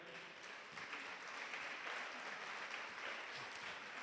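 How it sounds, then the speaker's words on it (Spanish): A church congregation applauds in steady, dense clapping that fills the room evenly from start to finish, heard fairly quietly and at a distance with no voices over it. "¿Puedes dar un aplauso a Dios por eso?"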